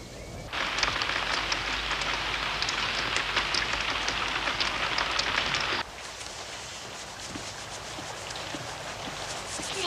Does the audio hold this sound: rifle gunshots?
no